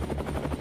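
Rapid thudding rotor beats of a helicopter flying in Alaska, a dense low throbbing that fills the moment, close and steady.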